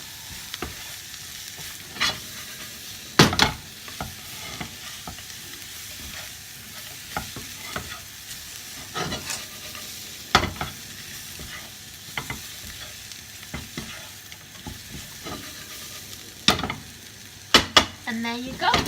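Salt and pepper chips fry with a steady sizzle in a pan while being stirred, with sharp scraping and clinking strokes scattered through, loudest near the end.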